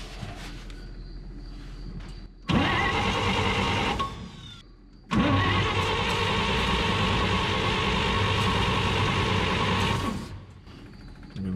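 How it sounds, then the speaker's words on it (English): An electric fuel pump on a 1951 Chevrolet farm truck that sat unused for 30 years buzzes loudly and steadily in two close bursts of several seconds each, with a quieter mechanical hum running between them. "Let's fire up the fuel pump, see what happens."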